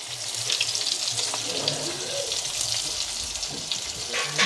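Nigella seeds and chillies crackle and sizzle in hot oil in a pan, a steady close frying hiss with faint watery spatter throughout.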